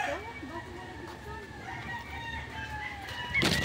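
Roosters and chickens crow at a roadside poultry farm near Nagcarlan, Laguna. A few wavering crows carry at moderate distance over a steady rumble of outdoor background noise, and a louder burst of noise comes at the end.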